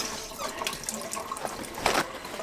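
Cold water streams from a tap over acrylic nails, a steady hissing splash with small surges and one brief louder splatter, close and continuous.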